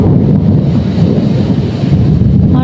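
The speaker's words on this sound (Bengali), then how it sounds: "গাইস দেখছো কি জোরে বিদ্যুৎ চমকাচ্ছে, আর পুরো ঝড় বৃষ্টি উঠে গেছে" A thunderstorm with gusting wind and rain produces a loud, continuous low roar and rumble, buffeting close to the microphone without letup.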